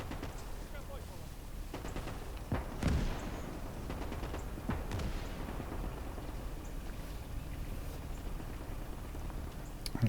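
Cannon and artillery fire in the Gates of Hell strategy game, Finland campaign, with scattered booms and gunfire over a steady rain-like battlefield rumble across ten seconds, and a voice talking at times.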